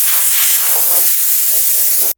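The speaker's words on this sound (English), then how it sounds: "I'm just going to spray paint this" Rust-Oleum Painter's Touch 2X spray paint hisses from a can in a steady close burst for about two seconds, then cuts off abruptly.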